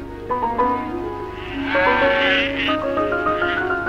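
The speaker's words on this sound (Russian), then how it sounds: "Так весной перегоняли овец на летние пастбища." Sheep bleat repeatedly while being driven to summer pastures in Kyrgyzstan, their wavering, overlapping calls rising and falling, loud and close with the flock steady in the background.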